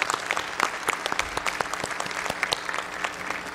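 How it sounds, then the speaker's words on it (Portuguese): Audience applause at the opening session of an event at the Memorial da América Latina, a steady spread of many hands clapping at moderate level with no voices over it. "Vamos receber com uma salva de palmas"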